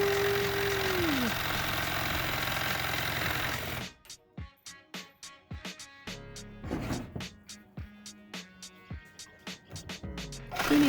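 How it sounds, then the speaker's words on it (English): A cordless Sawzall reciprocating saw cuts during a coffee table revamp and sconce project, a loud steady buzzing drone for about four seconds, then it stops and a series of irregular knocks and clacks follows. "Who needs special effects when you have a Sawzall?"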